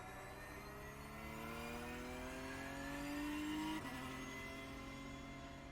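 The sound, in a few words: Porsche Cup car accelerating through gears in iRacing video game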